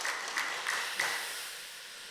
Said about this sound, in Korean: 우리 박수로 우리 찬양하도록 하겠습니다.